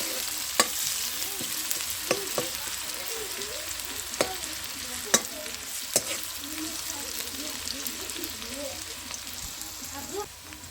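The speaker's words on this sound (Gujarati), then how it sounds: "તો મિત્રો એ ડુંગળી પણ નાખી દઈશું. ડુંગળીને બરાબર આપણે શેકી લેવાની છે." Chopped onions sizzle and crackle steadily in a hot pan, close up, with a few sharp scrapes of a stirring spoon scattered through, no talk.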